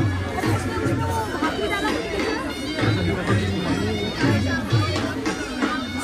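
Dense crowd chatter at a Konkan fair in Dubai: many voices babble together steadily and close by, with no single voice standing out.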